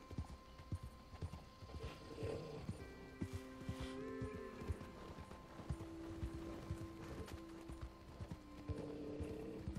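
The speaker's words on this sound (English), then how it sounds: "this horse is like constantly hungry" A horse walking in the Red Dead Redemption 2 video game, its hooves giving a steady, soft clip-clop rhythm against quiet ambient game sound.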